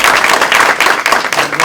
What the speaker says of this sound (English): let's give a round of applause to Anya Polanco